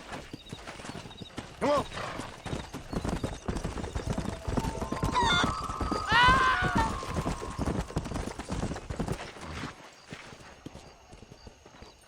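Horse hooves clip-clop at a gallop in the Red Dead Redemption video game, with a whinny partway through and a man's brief spoken urging over the steady hoofbeats and ambient game sound.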